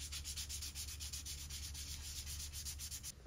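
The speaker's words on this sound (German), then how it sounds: "Das war jetzt der erste Schleifvorgang. Das Holz ist wieder glatt" A wooden revolver grip is sanded by hand with quick, even back-and-forth strokes, a close, dry rasping that pulses in a steady rhythm throughout, with a low hum beneath and no talking.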